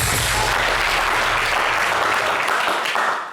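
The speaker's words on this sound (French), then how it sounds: "Applaudissez pour les BT." An audience claps in a loud, sustained burst of applause that holds steady for about three seconds before dropping away abruptly.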